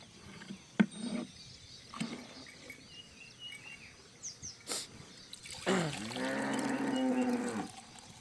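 A Holstein Friesian cow on a dairy farm lets out a long, loud, drawn-out moo near the end, preceded by scattered clanks, knocks and small farmyard noises.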